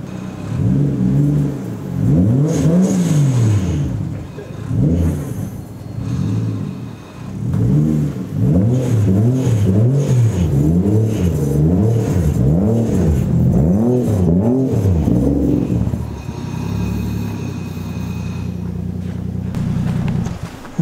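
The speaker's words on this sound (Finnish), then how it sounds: "Ja käydään sisällä tsekkaan ja ajetaan auto sisälle." A Toyota Chaser JZX100 engine rises and falls through repeated revving swells as the car is eased into a garage, loud and close, settling into a steady idle drone near the end.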